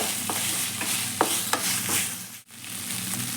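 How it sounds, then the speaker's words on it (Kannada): Chicken is stirred and sautéed in oil in a pan as part of a dry chicken dish, with a steady sizzle and several sharp scraping clicks from the stirring spoon and one short break near the end. "ಎಣ್ಣೆನಲ್ಲಿ ಚೆನ್ನಾಗಿ ಇದೇ ಥರ ಬಾಡಿಸ್ಕೊತಾ ಇರಬೇಕು."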